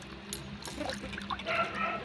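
Taro being washed by hand in a bowl of water for an arbi masala dish, with close, irregular splashing and sloshing that rises and falls over a couple of seconds, no voices.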